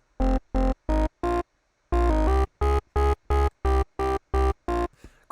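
A gritty wavetable synth bass plays about a dozen short, punchy notes in a rhythmic drum and bass pattern, with a brief gap partway through.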